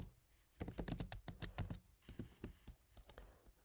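A command being typed on a computer keyboard: a quick, close run of light key clicks in two short flurries, with no talking over it.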